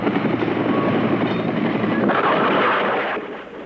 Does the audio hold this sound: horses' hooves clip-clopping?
no